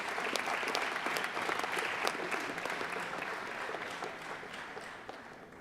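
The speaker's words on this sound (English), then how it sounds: "I think that deserves a round of applause." Steady applause from a large crowd in a high school gymnasium during an athletic sports assembly, sustained dense clapping at moderate distance that holds for the whole stretch and slowly eases.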